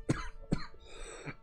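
Two sharp coughs from a character in the Skyrim video game, close and distinct, followed by a softer throaty exhale.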